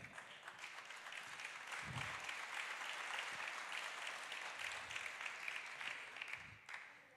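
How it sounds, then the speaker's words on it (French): An audience at an awards ceremony in Paris bursts into sustained applause, a dense, even wash of many hands clapping that holds steady for several seconds before tapering slightly at the end. "on peut applaudir une nouvelle fois Cyril Eldin."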